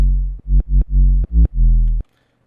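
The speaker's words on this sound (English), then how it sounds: "And then that moves us on to our bass, which sounds like this with no effects." A dry, unprocessed bass line from a hip-hop beat, five deep sustained synth notes in a bouncy rhythm with brief gaps, loud and alone, then cutting to silence.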